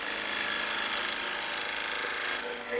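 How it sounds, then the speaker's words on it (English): Steady, harsh broadband scraping and whirring as a 1/2-inch bowl gouge cuts into spinning wood on a lathe, continuous and fairly loud with no talking. "1/2-inch bowl gouge"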